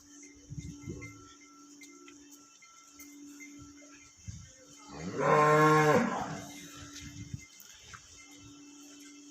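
A Friesian cross cow on a farm gives one loud, drawn-out moo of about a second midway, over quiet background with insects chirping and a few faint voices.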